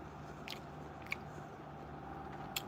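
A tortilla spread with apples, peanut butter and jam is bitten into, giving a few sharp crunchy bites close to the microphone over a steady low background.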